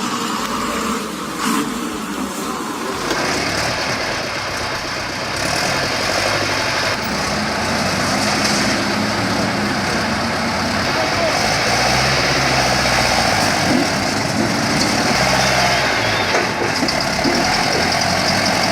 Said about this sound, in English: This specific clip shows just how tricky it gets when you're overloaded on a muddy slope.